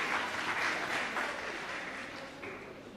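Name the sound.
round of applause for graduating candidates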